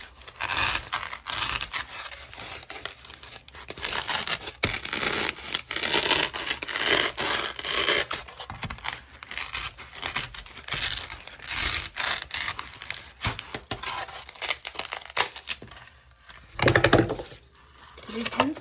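Knife cutting through thrifted material for a DIY craft, a steady run of scratchy, scraping strokes at close range with brief pauses and a louder burst near the end.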